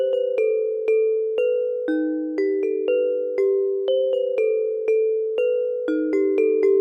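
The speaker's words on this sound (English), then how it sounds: "start off with a weird haunted bell sort of sound." A weird, haunted-sounding bell melody for a type beat, sustained tones ringing in a slow repeating pattern, steady and fairly loud, with no voices.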